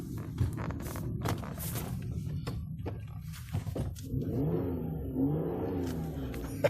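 A 2011 Ford Edge Limited, its engine freshly rebuilt, rumbles low and steady while accelerating at low speed, with scattered clicks and knocks from the cabin over the drone.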